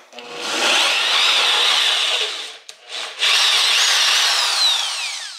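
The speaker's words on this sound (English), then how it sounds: "I did a starter hole because it's really hard to see where you're starting a hole saw at" A hole saw with a pilot bit bores into wood, a loud steady grinding whine that runs for a couple of seconds, breaks off briefly, then resumes and keeps cutting to the end, with no talking.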